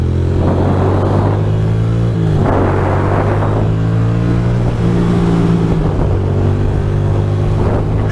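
A Ducati motorcycle under 1,000cc accelerates up to speed through New York City traffic, its loud engine note climbing and dropping across several gear shifts.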